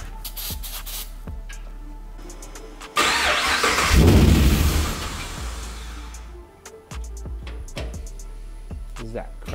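A 1959 Chevy Apache pickup with new custom wiring cranks but fails to start: a few seconds of loud, churning starter cranking between quieter stretches, with clicks, and people talking around it.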